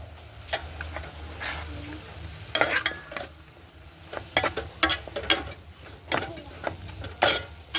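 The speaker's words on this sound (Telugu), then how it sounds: "తోటకూర ఒకసారి తిప్పుకున్నాం" Amaranth leaves fry in a pan, a soft continuous sizzle punctuated by clattering scrapes and stirs of a utensil that grow louder and more frequent toward the end, with no talk.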